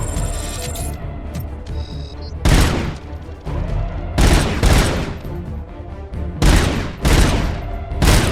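Sniper shots ring out in the video game RoboCop: Unfinished Business, several loud sharp blasts spaced a second or two apart, each trailing off between them, over a background of game ambience.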